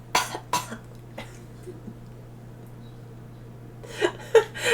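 A few sharp coughs at the start, a quiet pause, then another burst of coughing near the end over a low hum.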